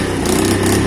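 A Keeway motorcycle engine after a carburetor clean, throttle eased up toward half, giving a loud, close, buzzy small-engine drone that swells slightly over a brief moment.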